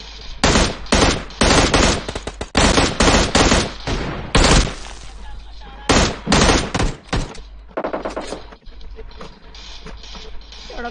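Rapid automatic gunfire in PUBG Mobile, loud close bursts of repeated shots with short pauses between them, from a battered, worn-out gun.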